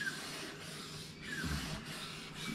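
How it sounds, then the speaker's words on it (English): Steel knife blade drawn along a whetstone with pressure on the upstroke, giving a soft, steady rasping scrape of moderate loudness with a few brief swells as the stroke repeats. "Moving the blade along the length of the stone."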